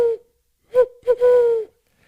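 A person's voice imitates an owl call with three hollow hoots, two short ones and then a longer drawn-out hoot, close and clear against silence.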